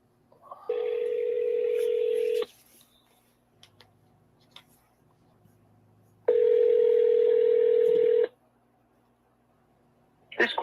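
A phone call rings out as two long, steady tones with a quiet gap between them. Faint clicks and a low hum sit underneath, and a voice begins just at the end.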